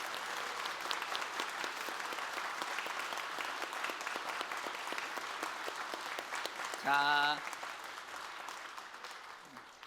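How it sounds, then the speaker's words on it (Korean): A church congregation at a New Year prayer meeting claps warmly and steadily, sustained applause with someone speaking briefly over it partway through. "한 번 더 뜨거운 박수합니다"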